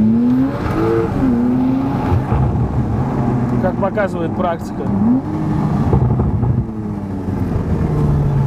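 A Porsche 911 Turbo S (991) with an aftermarket exhaust drones and rises and falls through gear changes, loud and steady from inside the car, while someone talks over it.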